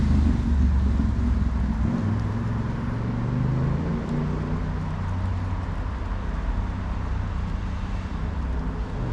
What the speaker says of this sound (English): We've got traffic noise here